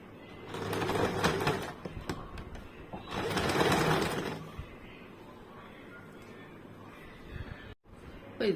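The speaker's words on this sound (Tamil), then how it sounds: "இப்போ நம்ம தைக்க ஆரம்பிச்சிடலாம். இந்த துணி எப்படி வச்சு தைக்கணும்னா, 2ஆ மடிச்சுக்கிட்டு இந்த இடத்துல இப்படி வச்சு தைக்கணும்." A sewing machine stitches folded lining fabric for a blouse in two short bursts of rapid mechanical whirring, followed by quieter handling and faint background noise.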